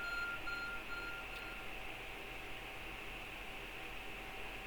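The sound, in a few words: ARC phone beeping in video game Pokemon Legends Arceus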